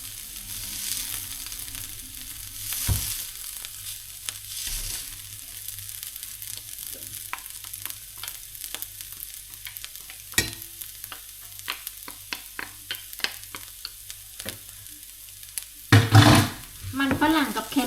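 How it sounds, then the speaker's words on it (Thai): Mashed boiled potatoes fry in a pan until golden, giving a quiet steady sizzle with occasional stirring clatter and a louder burst of scraping near the end. "เอามาทอดใส่กระทะนะคะให้มันเหลืองๆ"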